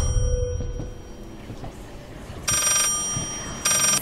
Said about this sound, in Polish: O, telefon do mnie.